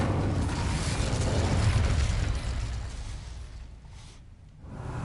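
The Incendio fire spell goes off in Hogwarts Legacy as a loud, roaring, whooshing burst of flame. It swells for about two seconds, fades and thins out, then flares briefly again at the end.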